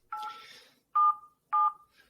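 A telephone keypad dials a number on a phone, one longer tone followed by two short, sharp beeps evenly spaced, loud and close with silence between them.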